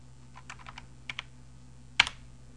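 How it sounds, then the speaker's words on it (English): A memo typed on a computer keyboard sounds as a scattered run of light, close key taps, then a louder single keystroke near the end, like a firm press of the Enter key, over a low steady hum with no talk. "And then you can type in a memo here,"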